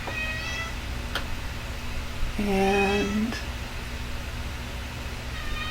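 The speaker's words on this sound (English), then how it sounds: "sorry about my cat if you can hear her" A cat lets out one drawn-out meow midway, fairly close, over a quiet room hum, with a brief spoken word before it.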